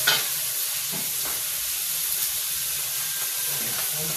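Chicken intestines frying in hot oil for adobo, a bright, steady sizzle and hiss running throughout with a sharper burst at the start and occasional soft stirring knocks.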